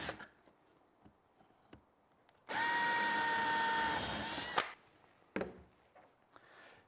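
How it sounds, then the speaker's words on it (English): A power drill bores pilot holes into soft cedar posts for a patio planter, guided through earlier clearance holes. About two seconds of loud, steady whine, with quiet workshop handling noises before and after. "I'm going to use the clearance holes that I drilled earlier as a guide for drilling pilot holes"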